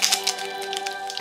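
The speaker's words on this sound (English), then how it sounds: "Let's tap it 3 times." A toy cauldron is tapped, giving a quick series of light, sharp clicks over a faint steady electronic tone. The sound is close and quiet.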